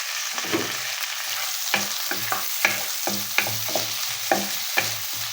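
Nigella seeds and fennel seeds sizzling in hot oil in a pan while a fish curry with vegetables is being made, a steady close crackle broken by repeated brief stirring scrapes.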